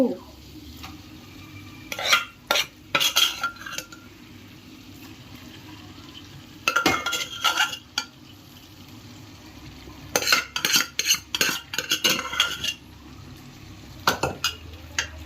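Cooked dal goes into a pan with soft bottle gourd and gets stirred, a ladle repeatedly clacking and scraping the metal in irregular bursts over a faint background sizzle, with occasional quiet movement between strokes.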